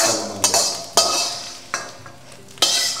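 Lamb chops sizzle in a pan with spring onions and salt, with a steady frying hiss broken by several sharp stirring scrapes at close range.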